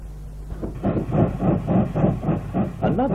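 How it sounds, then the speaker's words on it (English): A diesel locomotive on a heavy train climbs a steep gradient, with a rhythmic pulsing beat of wheels and engine rising in close, loud repeated bursts. "One of their many duties in the early days was banking heavy trains on this steep gradient."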